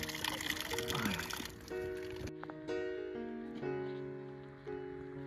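Cold mountain stream water rushes and splashes on the Shrikhand Mahadev trek in the Himalayas, a dense close wash for about two seconds before giving way to sustained tonal sounds.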